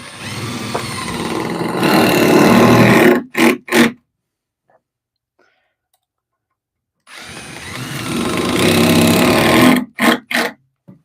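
A power drill drives 3-inch screws into shelf wood in two long bursts, each ending with short stuttering pulses, with a stretch of near silence between them.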